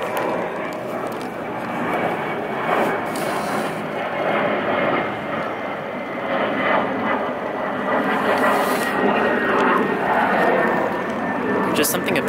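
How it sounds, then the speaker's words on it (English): A fixed-wing airplane passes overhead near San Jose airport, a loud, steady broadband engine roar filling the whole stretch without letting up. "there's always a lot of airplanes because there's an airport here"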